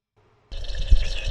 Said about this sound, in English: like a sea creature kind of blowing in there, you know, get some bubbles going